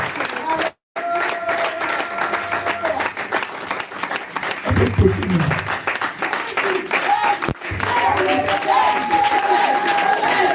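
A church congregation applauds with steady, dense clapping. Voices talk over it, and the clapping drops out briefly twice.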